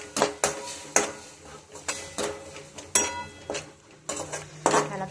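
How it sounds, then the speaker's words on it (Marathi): Brinjal in tomato gravy stirred in a pan with a spoon, sharp metallic scrapes and clinks against the pan at an irregular pace, with a faint sizzle underneath, close by. "त्याला परतून घेऊ थोडंसं."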